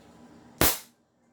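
One crisp, loud airsoft shot snaps out alone, a short hissing burst that fades quickly into silence.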